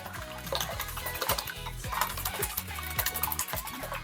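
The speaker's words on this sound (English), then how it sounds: "I'm just gonna whisk that together" Eggs with a sprinkle of salt whisked in a bowl: quick, rhythmic clinking taps of the whisk against the bowl, close and fairly quiet, with no talk.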